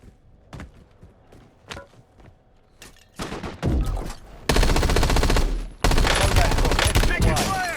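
Machine gun fire in the Warzone video game: scattered single shots at first, then dense, loud sustained bursts of automatic fire with a short break between two long volleys.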